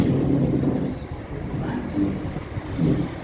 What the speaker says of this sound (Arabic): الهوا بقى والموجة الشقية هنا بقى، شقية الموجة.